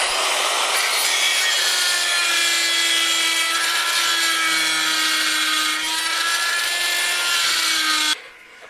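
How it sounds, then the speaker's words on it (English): A die grinder cuts through exhaust pipe on a 1993 Mustang Fox Body GT during a Coyote-swap exhaust install. It gives a loud, continuous high-pitched whine with a slight pitch drift for about eight seconds, then cuts off suddenly. "So I'm going to use my die grinder"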